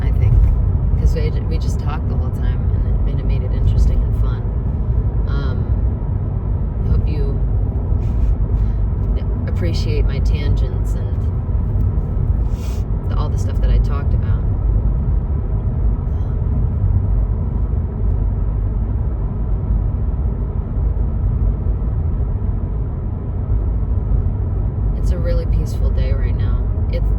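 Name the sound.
car driving on road, interior road noise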